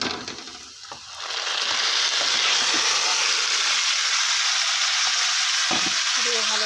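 Marinated chicken hits a pan of onions fried deep red, setting off a loud, steady sizzle that swells after the first second and keeps crackling, with light stirring scrapes near the end.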